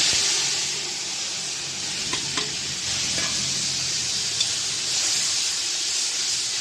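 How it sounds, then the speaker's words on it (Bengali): Tomato and a prepared spice paste fry in hot oil in a pan, giving a steady, close sizzling hiss with a few soft stirring scrapes throughout. "তেল আমার হয়ে গেছে, এর মধ্যে একটু টমেটোটা দিয়ে এবার এই মশলাটা যেটা আমি রেডি করে নিয়েছি এটা এবার দিয়ে দেবো।"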